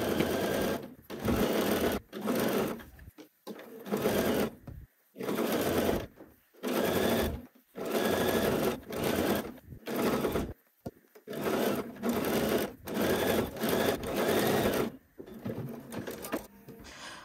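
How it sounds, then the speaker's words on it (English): A home sewing machine understitches a band seam in repeated bursts of rapid, close stitching, separated by brief pauses where it stops. "This is just like if you were understitching a facing."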